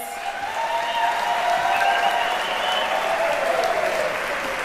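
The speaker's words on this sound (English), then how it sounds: "A louder round of applause." A crowd claps steadily and loudly throughout, a dense, sustained round of applause with no pauses.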